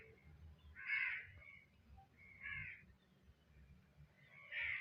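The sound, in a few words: crow cawing in the background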